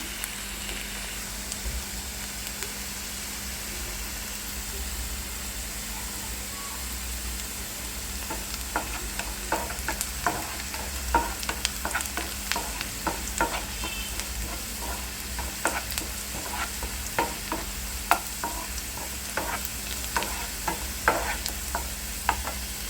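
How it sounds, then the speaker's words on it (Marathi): Onion frying in a pan for a homemade vegetable curry, a steady soft sizzle under low background hum, with intermittent scraping and clinking as it is stirred, growing busier in the second half. "कांदा भाजत आलेले"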